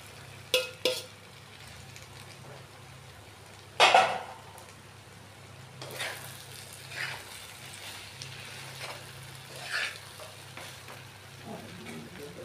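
Fried soybean chunks are tipped into a cooked-down spice masala in a pan, producing a low background sizzle broken by a few sharp clanks and scraping stirs of a utensil against the pan, with no talk.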